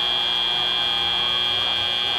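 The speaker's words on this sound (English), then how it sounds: "The buzzer sounds to end that match" A long flat electronic buzzer blares continuously at the end of a robotics competition match in an arena, a loud steady tone holding for over two seconds with no voices over it.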